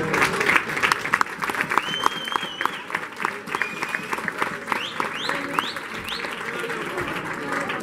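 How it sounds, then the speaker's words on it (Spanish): Applause from diners at a Cáritas parish charity dinner, a dense sustained clatter of many hands, with whistles and cheers rising over it and chatter mixed in. "al cual le saludamos con un aplauso"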